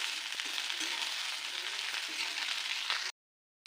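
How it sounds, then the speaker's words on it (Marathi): Chopped okra stirred into garlic frying in a pan, giving a steady, close broadband sizzle with scattered scraping clicks, which cuts off abruptly near the end. "आता आपण जी बारीक केलेली भेंडी आहे ना ती यामध्ये टाकून घेऊ आता व्यवस्थित असायला मिक्स करायचं आहे"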